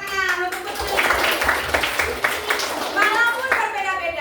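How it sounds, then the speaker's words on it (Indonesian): Children in an Indonesian elementary classroom clap their hands together in a quick, fairly loud patter of a few beats, with young voices chanting and talking over the clapping. "Tepuk tangan untuk betul."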